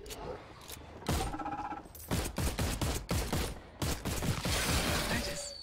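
Rapid bursts of gunfire in The Cycle video game, sharp repeated shots arriving in clusters over a few seconds with short pauses between volleys, loud and close, with some game noise in the gaps.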